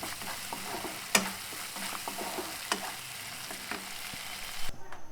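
Spices and chili sautéing in a pan for a boal fish curry with potato and tomato: a soft background sizzle punctuated by occasional sharp clinks and scrapes of a stirring spoon.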